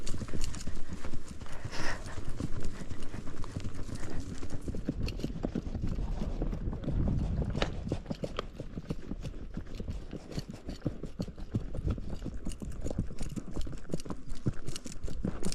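Horses' hooves clip-clop steadily along a trail on a ride past Clydesdales, a continuous walking rhythm close by, with a brief whinny-like call early on and faint outdoor background.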